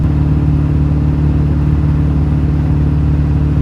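An LB7 Duramax pickup truck engine cruises at 76 mph, a loud, constant low diesel drone with road rumble that holds steady from start to finish.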